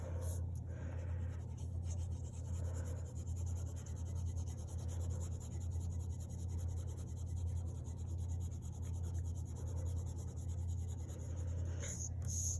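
A crayon scratches steadily across paper while big green petals are colored in, a continuous soft rubbing texture over a low steady hum.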